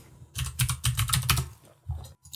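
Computer keys clatter in rapid close bursts as keyboard shortcuts are typed, a loud cluster of clicks followed by a short pause and a few more taps.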